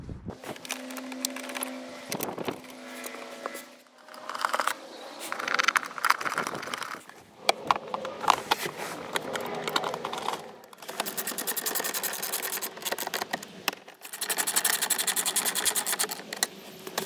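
A power tool bolts the center console back into a 2004 Toyota 4Runner during shift linkage bushing repair, making repeated rattling, whirring bursts of a few seconds each, close by and fairly loud, with short pauses between them.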